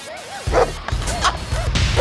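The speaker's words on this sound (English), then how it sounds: "Okay, there's three Rottweilers." Three Rottweilers at a dog park give a series of deep barks mixed with higher yips, repeating at a steady uneven pace over a noisy, rumbling outdoor background.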